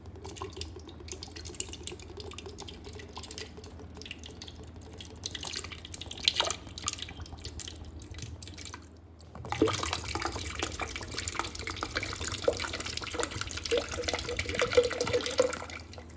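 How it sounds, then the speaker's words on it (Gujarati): Coconut water drips and trickles out of a coconut into a mixer bowl, faint scattered drips at first, then a steadier splashing pour for the last several seconds. "સૌપ્રથમ આપણે નારિયેળમાંથી એનું પાણી કાઢી લઈશું"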